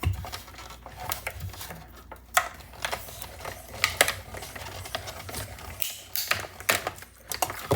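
Die-cutting machine cranked by hand with stamp plates through it, making a quiet, uneven run of clicks, rattles and ratcheting taps close by, with no voices.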